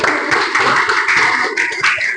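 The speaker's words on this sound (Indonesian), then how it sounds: "Ya, tepuk tangan." Applause from a class audience after a student group's presentation, steady dense clapping with a slight lull and a fresh swell near the end, close and fairly loud.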